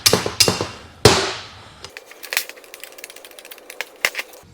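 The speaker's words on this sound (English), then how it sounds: "I whack the bolts to see if it will shock the bolts loose." Hammer whacking the bolts on a Garrett turbo housing from a GTH-1056 telehandler: three loud, sharp metallic strikes ringing out up close, followed by softer scattered clinks and taps.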